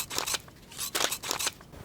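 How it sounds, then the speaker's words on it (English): Sharp scissors cut through thin felt while a Top Thrill 2 nanocoaster model from CoasterDynamix is assembled, several close, crisp snipping strokes in short bursts with no talk. "I'm just going to simply cut around inside this about 1/8 of an inch"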